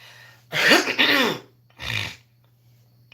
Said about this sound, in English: I had to clear my throat on that